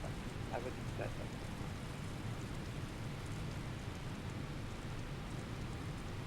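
Steady rain in Microsoft Flight Simulator at Geneva makes a dense, even hiss of drops on a surface, continuous and fairly close, with faint voices underneath.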